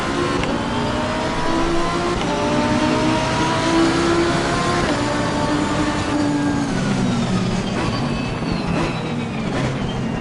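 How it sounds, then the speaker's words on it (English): Race car engines roaring at the start at a rainy Zandvoort in Assetto Corsa Competizione: a loud, continuous pack of engines revs and climbs through the gears, wet spray hissing beneath them. "our engines are about to roar as we head into turn 1 as it's pouring down rain"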